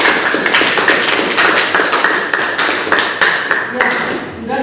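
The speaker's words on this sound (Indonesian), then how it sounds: "tepuk tangan" Hand clapping from a classroom of students, dense and fairly close, a steady burst of many hands lasting several seconds with some voices mixed underneath.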